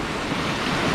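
Strong ocean surf along a Bermuda shore rolls in as a loud, continuous wash of water close by, mixed with some wind rumble on the microphone.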